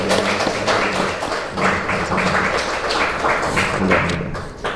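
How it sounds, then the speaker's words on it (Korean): A church congregation at a Sunday service gives a round of encouraging applause, a steady, full patter of many hands that holds at a fairly loud level, with no speech over it. "우리 허건사님 위해서 우리 한번 격려 박수 한번 할까요?"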